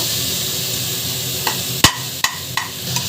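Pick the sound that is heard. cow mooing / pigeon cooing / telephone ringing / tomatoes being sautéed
tomatoes being sautéed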